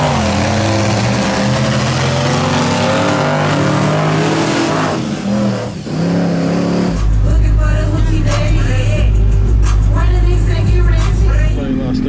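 Mud truck engine revving while stuck in weeds at an Okeechobee mud event: a loud, wavering engine roar that surges into a deep, heavy drone halfway through, with voices talking faintly underneath.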